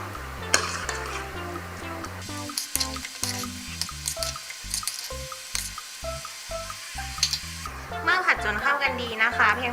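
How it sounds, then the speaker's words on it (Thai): Kimchi fried rice with green onions stir-fried in a pan, a steady sizzle with occasional scraping stirs running under prominent background music. "แล้วก็ต้นหอมค่ะ แล้วก็ผัดให้เข้ากันค่ะ"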